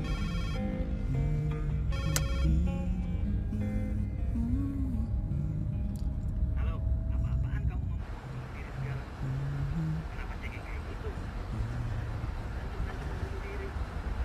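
A telephone ringtone rings repeatedly in an indoor scene, a steady electronic melody that fades into quieter room ambience partway through, with a few voices talking over it.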